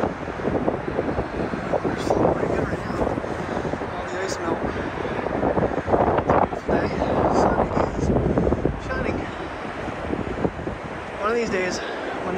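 Steady, heavy wind buffets the microphone throughout with a roaring rumble at a dam, and a voice speaks underneath it.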